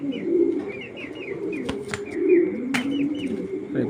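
Racing pigeons coo repeatedly in low, throaty rolls, close and fairly loud, with faint chirps and a few sharp clicks mixed in throughout.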